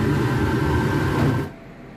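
An arc welds a steel pipe tee, giving a steady loud crackling hiss that cuts off abruptly after about a second and a half, leaving quiet room noise.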